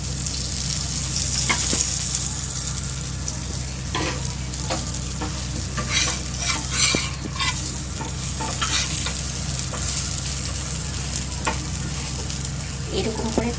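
A pizza base frying in butter in a pan, a continuous close sizzle with scraping and stirring touches scattered throughout.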